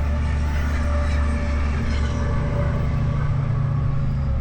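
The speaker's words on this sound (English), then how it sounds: "I'll just wait till this train's gone past." A train rolls past close by a pathway between Meadowbank and Glen Innes, a steady heavy rumble with a faint metallic hum that fills the whole stretch without pause.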